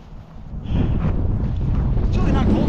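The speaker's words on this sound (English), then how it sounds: "aside from a little bit of gusting that is now happening" Wind gusts buffet the microphone on the water beside a Native Watercraft Titan X 12.5 fishing kayak, with a loud rumbling roar that swells after a brief lull and stays strong.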